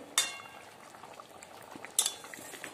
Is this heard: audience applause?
no